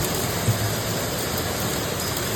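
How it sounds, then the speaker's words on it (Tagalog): Hail pelting a house roof during cold, rainy weather, a faint, dense patter of countless tiny impacts forming a continuous hiss with one slightly louder knock early on. "Napakaingay sa bubong. Akala ko kung ano nung pumapatak sa bubong. Yung pala yelo."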